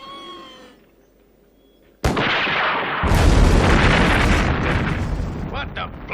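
Demolition explosion at an old research center: a sudden loud boom cuts off quieter tones and grows into a sustained, heavy, roaring rumble that continues for several seconds.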